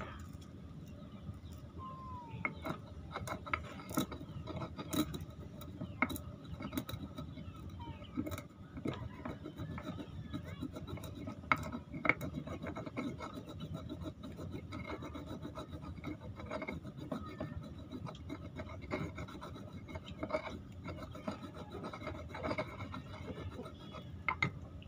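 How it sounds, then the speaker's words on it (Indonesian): Stone mortar and pestle grinding ingredients for a homemade plant-based pesticide, giving a steady rasping, rubbing scrape with irregular sharp knocks throughout, close and continuous with no talk. "Ini diulek halus sedulur ya."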